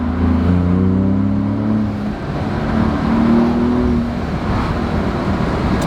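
A Ford Raptor pickup truck engine revs up in manual mode, pitch climbing, then drops briefly at an upshift and climbs again, loud and close with road noise underneath.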